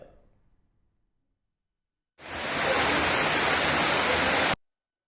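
Heavy rainwater pours like a waterfall down the hill steps of the Palani Murugan temple during a thunderstorm, a loud, steady broadband rush that starts abruptly and stops after a couple of seconds, with no thunder clap evident.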